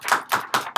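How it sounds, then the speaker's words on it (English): At a poetry event, an audience claps for a poet in a short burst of four distinct, evenly spaced claps, close and clear. "Let's give Absolutely Terrified another big clap"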